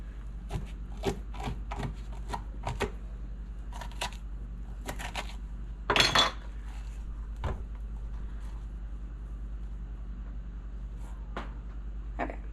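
Scraping the stringy guts out of a squash with a utensil, a series of short, quiet scratchy strokes, some in quick bursts, with one louder scrape partway through and no talk.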